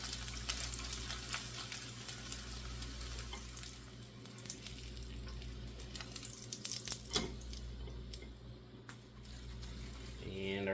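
Burger patty frying in a pan until browned and crispy, a quiet, steady sizzle with a low hum beneath it and a few faint clicks, with no voices over it.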